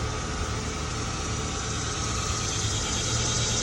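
A Kroger delivery truck engine idles steadily close by, giving a loud, continuous rumble with no talking over it.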